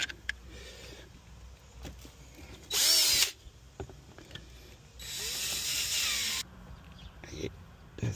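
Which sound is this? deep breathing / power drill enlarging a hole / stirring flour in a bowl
power drill enlarging a hole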